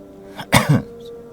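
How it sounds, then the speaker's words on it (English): A single sharp cough, a quick double burst close to the microphone, with a faint steady hum underneath. "so I do pardon my coughs a little bit here and there"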